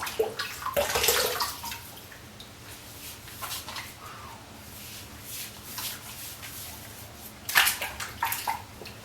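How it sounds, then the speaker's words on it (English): Water splashes up onto a face being wetted before a shave, a run of close, soft sloshing bursts with a louder splash near the end and quiet trickling in between. "I just need to wet my face."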